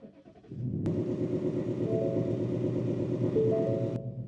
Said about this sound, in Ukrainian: Звісно, хочеться ж почати з цього пуску авто.